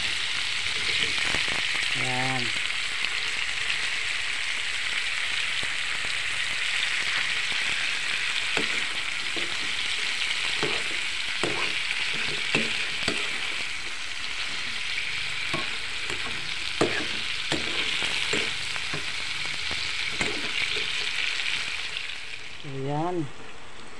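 Fresh vegetables and shrimp sizzle and fry steadily in a pan, a continuous hiss broken by scattered stirring clatter, with brief bits of speech near the start and the end.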